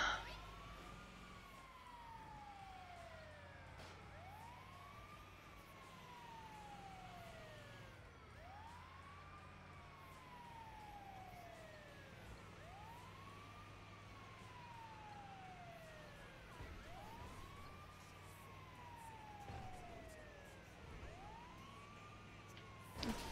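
An ambulance siren wails in the video game GTA V, its rising and falling cycles repeating steadily for the whole stretch under a low engine drone, fairly faint and with no talk.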